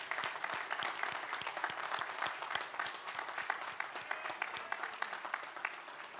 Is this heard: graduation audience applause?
yes